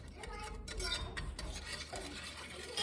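A whisk scrapes and clicks against a pot while stirring flour before the heat is on for homemade banana pudding, a quiet, rhythmic tapping and swishing at close range.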